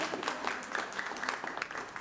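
Moderate applause from an audience at a university entrepreneurship report event, scattered hand claps forming a steady patter for a couple of seconds, at mid distance and fairly soft.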